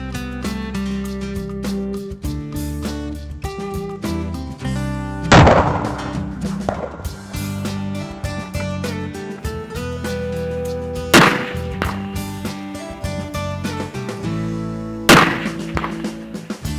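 Rifle shots from a Tikka T3X in .260 Rem, fired to check the zero on an Australian farm range, three sharp, loud cracks spaced several seconds apart over steady background music.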